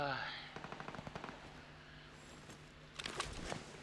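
Rapid automatic gunfire in the shooter game Arena Breakout, a quick burst of about a dozen evenly spaced shots, followed by a few scattered shots later, fairly faint with a little speech nearby.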